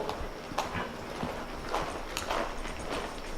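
A horse walks under a rider, its hooves clip-clopping in a soft, fairly steady rhythm at moderate distance over a muffled outdoor background.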